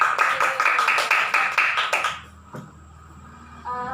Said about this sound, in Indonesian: Silahkan tepuk tangan untuk kita semua